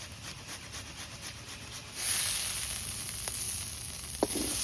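Steady sizzling hiss of farmed shrimp releasing much water as they fry in a hot kadai, growing louder partway through, with a couple of brief clinks near the end.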